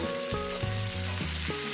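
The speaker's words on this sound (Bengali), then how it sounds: "পরপর সবজি দিয়ে আমি সবজিটাকে সুন্দর করে আমি ভেজে নিচ্ছি" Flat beans and green chilies fry in a pan for a quick rice dish, sizzling continuously at close range with a low steady hum beneath the crackle and no talk.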